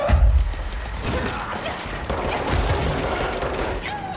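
Rapid gunfire from a video game, dense bursts of shots with crashing impacts running continuously through the clip at close range, no talk over it.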